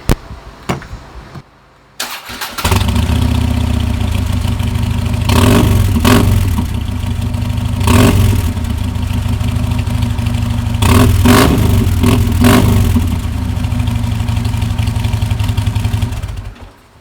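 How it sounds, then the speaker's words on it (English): Touring motorcycle fitted with Vance & Hines Sharktail exhaust pipes cranks and starts, then settles into a loud, deep idle with repeated throttle blips and revs, close and alone with no talk. "Let's do a sound check. Vance Hines Sharktail pipes"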